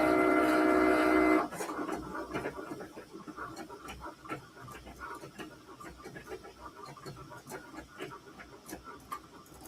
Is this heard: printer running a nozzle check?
yes